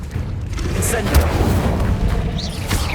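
Incendio fire spell cast in Hogwarts Legacy: a booming, crackling burst of flame rumbles near and loud through a short stretch of dense game noise, with a few bright magical flickers over it and no talking.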